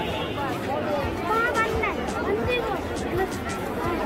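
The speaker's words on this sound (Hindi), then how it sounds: "ये देखिए फ्रेंड कितनी भीड़ है।" Dense crowd gathered outside a church side gate on Christmas, its main gate closed; steady babble of many voices and footsteps mills around nearby at constant level throughout.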